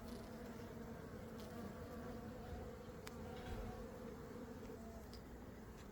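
Carnica honey bees, a crossbred line, buzzing at the hive in a steady, dense drone that stays even throughout, with a few faint clicks and no talk.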